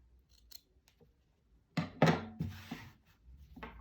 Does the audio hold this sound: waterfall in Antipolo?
no